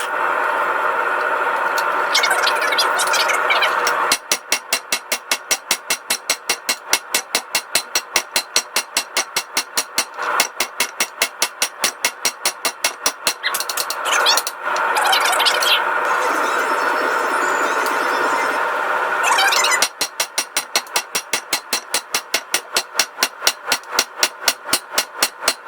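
A 4-pound hammer striking hot steel while forging an eye punch by hand, long runs of loud, rapid, evenly spaced metallic blows broken by short pauses, with a steady background hum between runs.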